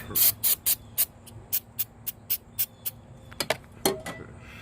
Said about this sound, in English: Now all I'm doing is I'm spraying